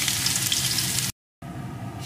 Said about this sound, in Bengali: ফোড়নগুলো লাল লাল করে ভেজে নিয়ে এর ভিতরে দিয়ে দেবো একটু থেতো করা রসুন